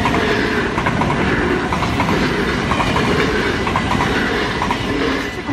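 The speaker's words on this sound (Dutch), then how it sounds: "Hoor hem. Langzaam weer, goederen" A freight train passing slowly near the tracks in Maasbracht, a loud continuous rumble with steady clickety-clack of wheels over rail joints throughout.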